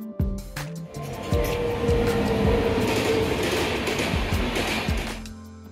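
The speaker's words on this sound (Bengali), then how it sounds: "এখন আমাদের ট্রেন চলেছে নর্মদা নদীর ওপর দিয়ে।" Rajdhani Express rolling along on a morning crossing over the Narmada river: a steady, loud rumble of wheels on rails with rhythmic clatter and a faint tonal whine, continuous and close.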